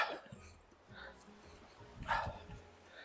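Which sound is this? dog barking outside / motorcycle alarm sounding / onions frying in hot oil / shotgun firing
dog barking outside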